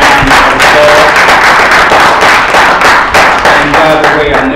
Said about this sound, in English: Let's give the President a big round of applause.